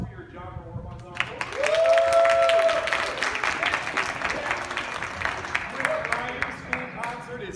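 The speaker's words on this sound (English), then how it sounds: "round of applause for your genre or ensemble" An audience applauds a school Orff ensemble performance, with steady dense clapping at moderate loudness, while a voice talks over the clapping at the start and end.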